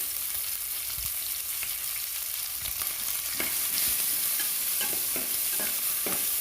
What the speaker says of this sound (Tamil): காஞ்ச மிளகா போட்டுக்கிறேன் கருவேப்பிலை போட்டுக்கலாம்